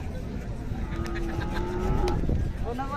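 Khillar cattle moo at a crowded livestock market in Sangola, Solapur, a drawn-out low call rising over steady crowd and traffic noise, with a second animal joining near the end.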